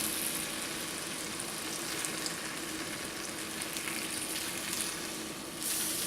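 Bacon frying in a pan gives off a steady, dense crackling sizzle that holds at an even level throughout, with no voices.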